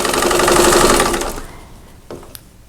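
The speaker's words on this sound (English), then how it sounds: "I am going to start sewing on one corner" A sewing machine stitching the corner of a quilt block in multi-directional fabric runs in a fast, steady, close whir for over a second, then stops, followed by a couple of faint clicks.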